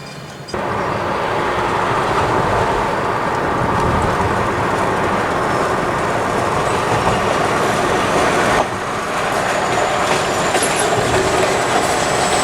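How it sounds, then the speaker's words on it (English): A New York, Susquehanna & Western freight train street-running along Schuyler Street in Utica, New York, rumbling loudly and steadily with rolling wheel noise and faint squeal, continuous throughout, with no talk. "An engineer just blew the horn for NYS Street, which marks the end of Schuyler Street's 6/10 of a mile street running"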